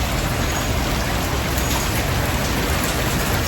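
Steady rain falls over an orchid garden in summer, a dense, even hiss of drops on surfaces that continues unbroken throughout with no voices.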